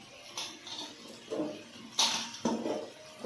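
Chopped vegetables for sambar (carrot, brinjal, bottle gourd, drumsticks and potato) tumble into a cooking pot in several separate clattering drops and soft thuds, close by and without talk.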